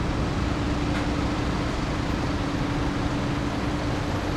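Busy gridlocked street traffic in Bangkok's Chinatown, a steady low rumble of engines and passing vehicles with a constant hum, no clear voices.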